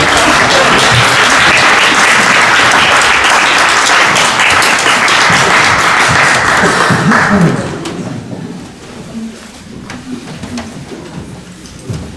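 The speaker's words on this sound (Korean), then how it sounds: "다시 한번 큰 박수 해주시죠." A church congregation at a Christmas Day service in Vienna applauds loudly and densely for about seven seconds, then the clapping fades out into quiet room murmur.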